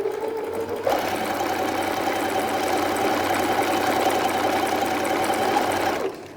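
A sewing machine runs steadily for about five seconds, stitching a close-edge seam on a child's unisex jumpsuit, with a loud continuous mechanical whir that starts abruptly and stops near the end, with no talk.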